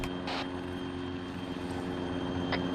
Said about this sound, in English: We're in the Hawaiians helicopter.